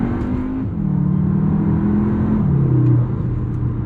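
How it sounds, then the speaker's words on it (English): A Cupra Formentor VZ2 with its 7-speed DSG gearbox launching hard, the engine note climbing in steady revving sweeps with quick stepped gear changes, loud and close with no talk. "I still think that that DSG launch is still probably one of the best in the game"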